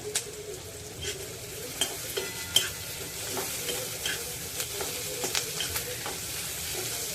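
Onions sautéing with turmeric and asafoetida in a pan for a leafy greens dish, giving a soft, steady sizzle with light scraping stirs and a few sharp utensil clicks, and no voices.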